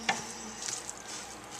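Two cups of oil stirred in a pot for Ethiopian cooking, a soft sizzling hiss with a brief scrape of stirring near the start, quiet and close, no voices.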